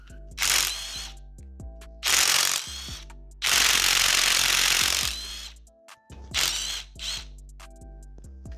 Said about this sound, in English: Got my cobalt impact here for stuff that's a little bit tighter.